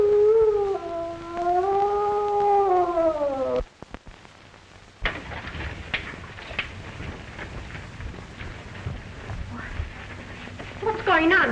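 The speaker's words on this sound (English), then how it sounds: "Heard a terrible moan from Mr. Harrison's room." A long, wavering moan drifts from a room in an old mystery film, rising and falling for several seconds. It is followed by a sharp break and then faint, rain-like hiss and scattered noise, without clear talk.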